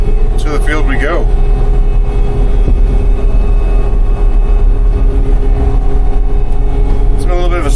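A farm vehicle engine drives toward a cotton field in road gear on a hot day in the Texas Rolling Plains, a loud steady low rumble throughout, with brief voices talking near the start and end.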